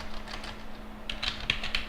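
Computer keyboard keys tapped while a terminal command is entered, a short run of close, crisp clicks in the second half after a quieter stretch, with no talking.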